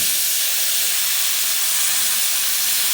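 A steam cleaner hisses steadily while cleaning the coils of an ice machine, giving a loud, continuous broadband rush of pure steam that runs unbroken from start to finish with no talk.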